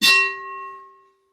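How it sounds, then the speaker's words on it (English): A single bright notification bell ding rings out loud and clear, with a sharp metallic strike that leaves a steady tone and fades away over about a second, alone with no voices. "Hit that notification bell."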